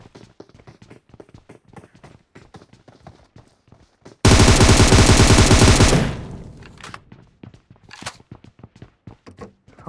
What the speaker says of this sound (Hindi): चलो सिंगल फायर टैप करके बोले